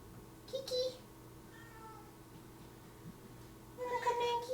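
A house cat meows indoors, two short faint meows, one near the start and one at the end, with quiet room tone between them.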